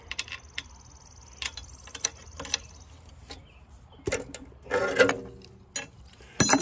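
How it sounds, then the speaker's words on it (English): A tappet cover comes off a Wisconsin engine on an Agricat during disassembly: quiet metallic clicks, taps and scrapes close by, scattered and irregular, with a couple of louder clunks of metal parts near the end. "Now I'm gonna take the cover off where the valve tappets"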